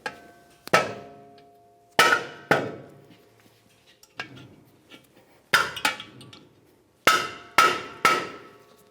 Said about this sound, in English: take your finger or a small hammer and punch and just go ahead and drive them down